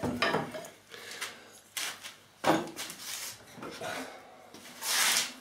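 An adjustable-depth blade tool cutting and rasping wood around the edges of a guitar body during restoration, in several separate scraping strokes, close and uneven.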